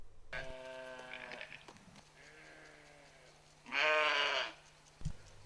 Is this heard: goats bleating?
yes